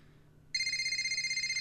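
A mobile phone starts ringing abruptly after a quiet half second, a loud, bright electronic tone pulsing rapidly and steadily close by, with no talk over it.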